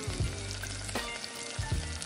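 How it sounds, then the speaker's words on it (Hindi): Green peas roasting in a pan for a low-oil besan snack, giving a steady close sizzle and frying crackle with a few stirring scrapes, no talk over it. "तो जब तक हमारे मटर भून रहे हैं"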